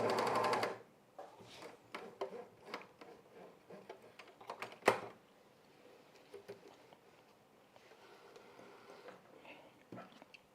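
A sewing machine chain-stitching men's underwear runs in short rattling bursts of rapid ticking stitches, separated by pauses and fabric handling, fairly faint and close.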